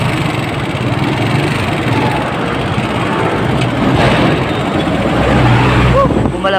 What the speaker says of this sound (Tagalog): Balagbag yung motor natin, hindi na kaya paakyat.